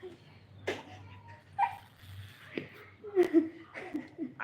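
A puppy gives soft, high whimpers and yips in short bursts, mixed with quiet voices and light laughter in the room.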